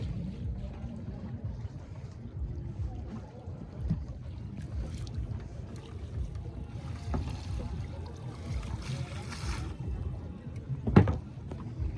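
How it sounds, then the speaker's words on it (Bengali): Fishing net hauled by hand onto a small boat on a winter morning, a steady low rumble of water and motion with soft scraping, a brief louder knock near the end, no talking. "এখন জালটাকে টেনে তুলে নেওয়া হবে"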